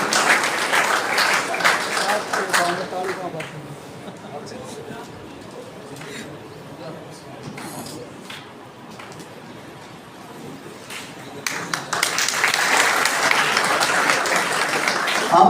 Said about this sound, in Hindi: तालियों में कोई कोताही नहीं।